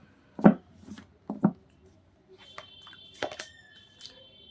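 Tarot cards being shuffled and dropping onto a surface, a few short soft slaps and rustles with pauses between, close by and alone.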